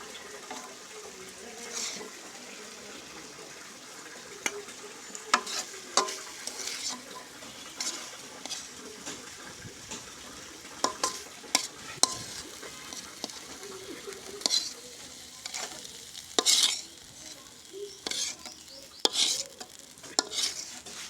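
Food fries in a pan with a low, continuous sizzle, broken again and again by sharp scrapes and clinks of a spatula stirring against the metal, close and unhurried.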